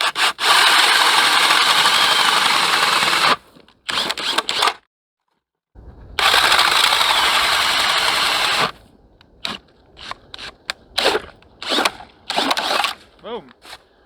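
A DeWalt DCD999 Flex Advantage drill with a 6.0 battery, on speed 2, turning a 6-inch auger: a loud, steady motor whine in two long runs, then a string of short, choppy bursts and stops.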